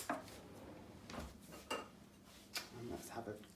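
A spoon scrapes and clinks against a baking dish while scooping out chocolate brownie, giving several sharp, close metallic taps and scrapes spaced irregularly, quiet overall.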